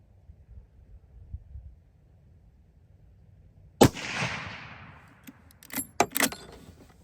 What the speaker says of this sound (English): I'm going to shoot one more just to make sure that that's right